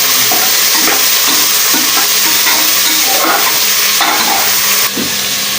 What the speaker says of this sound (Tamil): நல்லா கிண்டிக்கலாம்